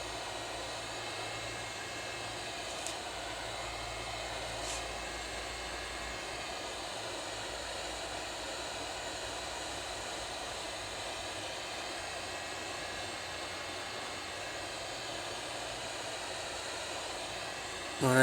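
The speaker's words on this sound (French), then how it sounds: "vous chauffez les bords. Donc il faut surtout ne pas rester sur place, donc que ce soit avec un sèche-cheveux ou un décapeur." A hair dryer or heat gun warms the edges of an iPad 2's cracked touchscreen glass, giving off a steady, soft airy hiss that runs unbroken for nearly twenty seconds, with a couple of faint clicks and a bump at the end.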